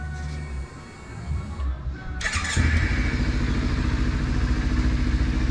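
A Kawasaki Ninja 300 motorcycle engine runs on flushing oil, starting with a lower idle, dipping, then catching and settling into a louder, faster steady running note with a high whine, close up and with no talk.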